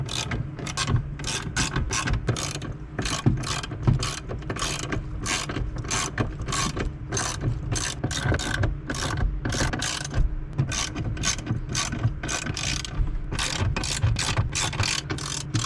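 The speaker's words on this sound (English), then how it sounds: "Now I'm gonna go ahead and actually fully tighten down these bolts." Hand ratchet cranking bolts tight during a heater core install on a 1994–2004 Ford Mustang, a steady run of close, sharp clicking strokes repeating without pause and heard alone.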